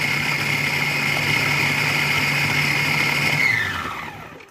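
A blender on a high setting chops apricots for sorbet, giving a loud, steady motor whir that holds for about three and a half seconds and then winds down as it is switched off.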